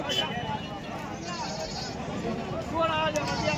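Goats bleat at a crowded rural goat market in Dondaicha, and buyers and sellers talk and bargain loudly over the animals throughout.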